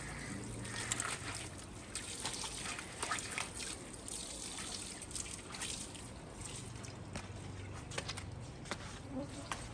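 Water is poured across a dirty marble floor being washed, a faint, continuous trickle and splash with scattered drips throughout.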